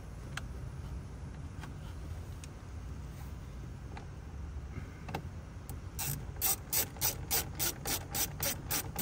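A ratchet clicks rapidly and evenly, close and loud, as bolts are tightened back in after a cup holder install in a Next Gen Ranger dashboard, following faint scattered ticks of handling parts.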